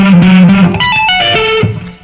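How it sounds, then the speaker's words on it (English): A quick electric guitar tapping lick with string skipping, a fast, fluid flurry of bright legato notes leaping between strings, loud and alone, in a late-1980s rock style. "Here's a lick which incorporates that technique and string skipping"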